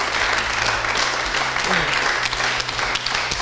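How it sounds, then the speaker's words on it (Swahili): An audience at a secondary school event claps in a sustained, dense wash of applause, with voices faintly mixed in, continuing throughout. "Piga makofi kwa Big School Shot bwana."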